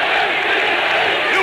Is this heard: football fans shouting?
yes